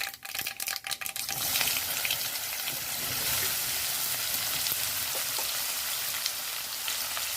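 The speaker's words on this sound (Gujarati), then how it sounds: "હવે જે આ કંટોલા કટિંગ કરેલ છે તે નાખીશું" Loud, steady sizzling of chopped kantola (spiny gourd) frying in hot oil with a pinch of asafoetida, opening with a few clattering stirs and then a continuous crackling hiss with no talking.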